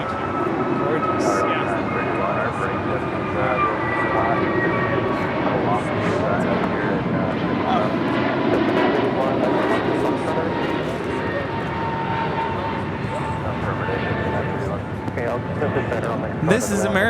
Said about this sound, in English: This is American Airlines 822 taking off to Charlotte on an A321 Neo.